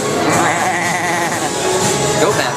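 A person's voice imitating a goat, giving a continuous wavering bleat with a shaky vibrato, loud and close, filling the whole moment without other talk.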